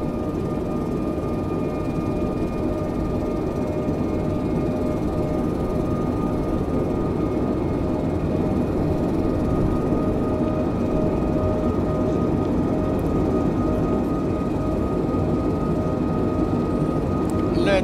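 A Philippine Airlines Airbus A320neo in flight, approaching Incheon, South Korea, gives a steady, loud broadband cabin roar with a faint constant hum. The rumble stays unbroken throughout, with occasional quiet talk beneath it.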